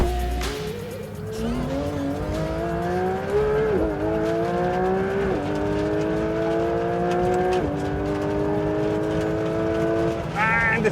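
Porsche 911 GT3 RS engine revving hard on a runway, close and loud, its pitch climbing steadily and dropping briefly at each of several upshifts before climbing again.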